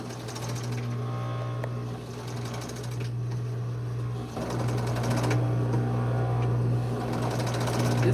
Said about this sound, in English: this machine does such beautiful stitches, like I love it.